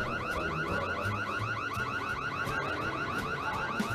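A car alarm wails in a rapid repeating pattern, steady and moderately loud throughout, with no voices over it.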